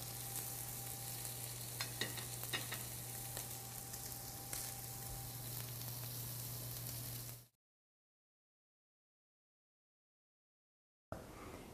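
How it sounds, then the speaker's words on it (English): Food searing on the grill of an ILVE range, a steady close sizzle and hiss that runs alone for several seconds before cutting to silence, then briefly returning. "Now you can see that nice searing effect. We're getting our grill marks, we're getting that grill flavor"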